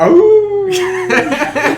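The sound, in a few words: voice imitating a wolf howl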